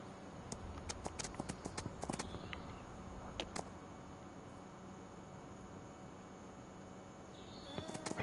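Horse hooves clip-clop in Farming Simulator 25 on PS5, quick bursts of sharp steps near the start and end with a quieter stretch between, over a faint hissing ambient bed.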